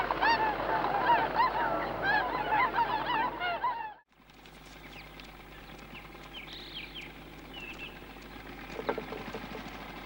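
Bewick's swans, arrived from Siberia to Walthamstow, and a pair of mute swans calling: a dense, loud honking chorus for about four seconds, then quieter scattered calls and distant honks over outdoor ambience.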